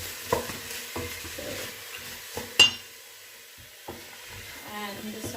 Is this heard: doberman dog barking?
no